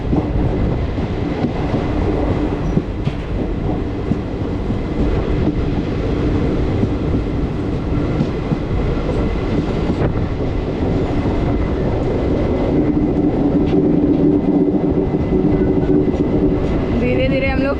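Express train running from Mumbai toward the Western Ghats draws level with and overtakes a local train bound for Kalyan; a steady loud rumble of wheels and carriages fills the whole stretch with faint clatter on top, no talk.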